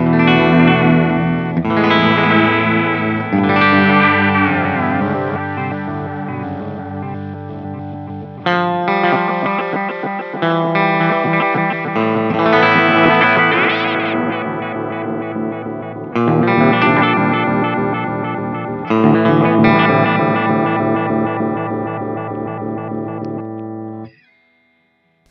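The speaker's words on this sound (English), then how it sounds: "a, you know, standard, very warm sounding delay with some chorusing" A guitar played through an MI Effects lo-fi delay pedal, with crunch box distortion and chorusing, rings out in warm, echoing phrases. The repeats trail behind each note until it cuts off near the end.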